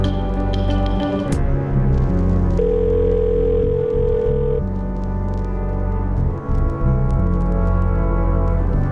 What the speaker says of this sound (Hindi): रिंग जा रही है, मतलब यहाँ का नंबर वहाँ एक्टिव है।